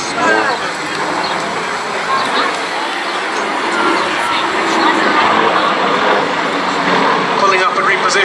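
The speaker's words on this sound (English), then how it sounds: "The three Yak 50s in this formation" Yak 50 aerobatic planes flying in formation at the Cleethorpes Air Show 2015 drone overhead with a sustained, rising and falling propeller engine roar, heard under a commentator's voice.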